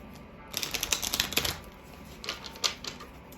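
A deck of tarot cards is shuffled close up in two quick bursts of dense, crisp flicking clicks separated by a short pause.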